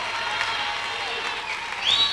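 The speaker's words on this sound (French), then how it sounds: "Oh, mais n'acclamez pas, la plupart qui acclament le font aussi." Church audience applauding during a sermon, a sustained wash of clapping from many hands, steady and fairly loud from start to finish, with a brief rise near the end.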